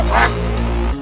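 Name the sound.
goose honking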